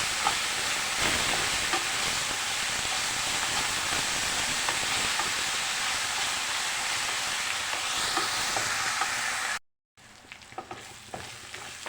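Ginger paste fries in a pan while mutton curry is being made, giving a steady, dense sizzle that runs loud and unbroken, cuts out briefly near the end, then resumes with scattered crackles.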